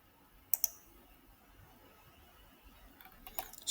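Mouse clicks while setting up a virtual machine on a computer, a pair of quick, close clicks early on followed by a few more light clicks near the end over a quiet room hush.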